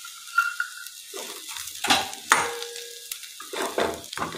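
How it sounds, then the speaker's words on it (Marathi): A spoon scrapes and stirs a corn mixture in a pan, with irregular metallic clinks and scrapes over a light sizzle, close up and uneven in pace. "याला चांगलं मिक्स करून घेऊया आणि यामध्ये थोडेसे कॉर्न टाकायचे आहेत आपल्याला"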